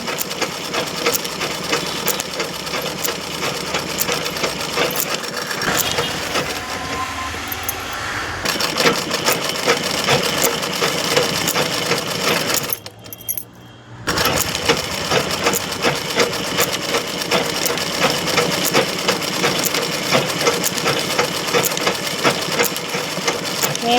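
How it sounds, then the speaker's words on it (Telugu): A sewing machine stitches along the edges of a saree, whirring steadily and loudly with a brief stop partway through before carrying on. "ఇప్పుడు చెరుగులు కుడుతున్నాను"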